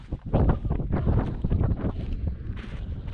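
Strong wind roars and buffets the microphone continuously high on Pikes Peak, Colorado, a dense low rumble with fluttering gusts throughout.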